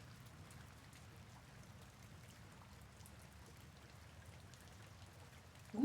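Rain falling steadily, a soft, faint patter of drops on surfaces with a gentle trickling wash underneath, continuous and distant, with one slightly louder splash right at the end.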